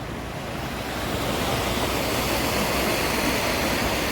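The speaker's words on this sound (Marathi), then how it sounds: "अरे बापरे किती जोरात पाणी आहे" Strong, fast-flowing water of the Saryu river at a bathing ghat in Ayodhya roars as a continuous, loud broadband rush, steady and close throughout.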